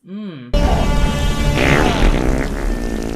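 A fart sound effect from the 2012 comedy film Breaking Wind: a short wobbling low squeal, then a loud, drawn-out blaring blast with raspy texture that fills the rest of the moment, with no talking.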